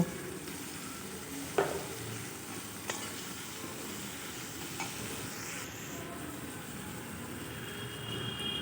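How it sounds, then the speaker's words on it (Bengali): Tomato fries in a pan with a steady soft sizzle and hiss, broken by a few sharp spoon clinks and scrapes as it is stirred; no voices. "এটা দিয়ে এবার কিছুক্ষণ নাড়বো যাতে করে টমেটোটা একটু গলা গলা হয়ে যায়"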